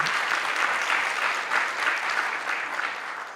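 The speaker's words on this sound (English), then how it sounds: "A round of applause to all of you" Delegates at a TVET college policy conference applaud in a continuous, even wash of many hands clapping, moderately loud and unbroken throughout, with no voices on top.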